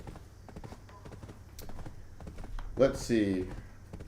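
Horse hooves clip-clop in the video game Black Desert, a quick, regular patter of light hoofbeats under a voice that briefly rises over them near the end.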